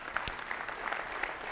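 A church congregation claps in a brief burst of steady, dense applause that is fairly faint and fills the room evenly, with no voices over it.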